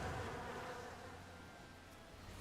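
Bees buzz steadily in the Final Fantasy XIV Endwalker video game, a dense continuous drone that holds even and fairly loud throughout, with no voices.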